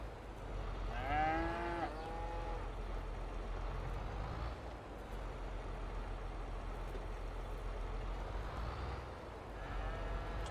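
A cow moos a couple of times on a farm during wheat harvest, a drawn-out call near the start and another fainter one at the end, over a constant engine rumble.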